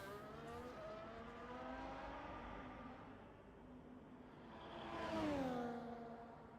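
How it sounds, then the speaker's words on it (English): Race car in the F1 24 video game rolling into the garage: a soft, steady whining engine tone that dips, then swells louder with a rising and falling pitch sweep as it moves past. "As MJ's car just rolled back into the garage there."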